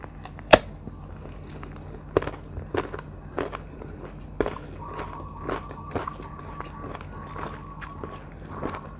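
A big Thai mango is bitten in a series of crisp, close bites, each followed by soft wet chewing, with quiet pauses between the crunches.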